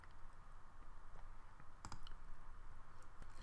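A few sharp computer mouse clicks while working in Palm-Tech home inspection software on a Windows PC, with a quick double click midway and a single click near the end over a steady background hiss.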